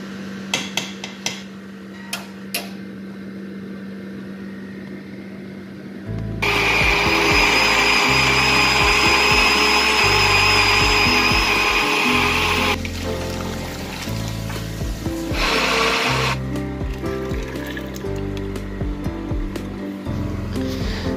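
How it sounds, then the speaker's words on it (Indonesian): A kitchen blender whirs loudly in several bursts, stopping and restarting while blending ingredients for Indian chicken curry, after some light clinking at the start. "Dan ini akan di blender."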